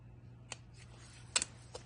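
A few crisp snips as the ends are cut off a polymer clay piece, two or three close, quiet cuts spaced apart over a low steady hum.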